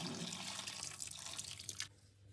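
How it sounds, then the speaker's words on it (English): Water pours into a Russell Hobbs slow cooker, a close, splashy trickling stream that runs for almost two seconds and then stops, leaving a quiet room. "any water that I want to add to it or stock"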